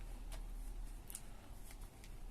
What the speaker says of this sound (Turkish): Üçüncü katımızı katladık. Katlıyorum. Ve katladım.